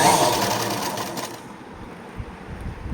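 A sewing machine stitches a blouse sleeve for a princess-cut blouse, running in a steady whirring burst for about a second and a half before cutting off into a quiet room.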